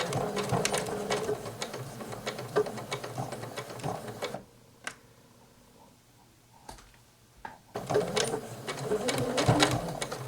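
Janome 8077 sewing machine stitching in rapid bursts, loud and close, with a pause of near-silence in the middle broken by a couple of clicks before stitching resumes.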